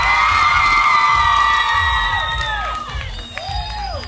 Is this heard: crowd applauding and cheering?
yes